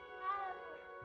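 A cat in the Hogwarts Legacy video game gives one faint, short meow with a slight rise and fall in pitch.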